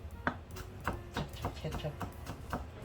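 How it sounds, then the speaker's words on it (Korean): Knife julienning garlic on a cutting board for an eggplant side dish, giving a steady run of crisp, close chopping taps, about two or three a second. "그래서 이 마늘을 또 이렇게 채쳐."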